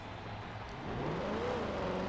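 A Hoonigan Belair's engine in Forza Motorsport 7 revs up under a steady throttle hold, its tone climbing and then settling into a sustained drone, loud and close with no talk over it.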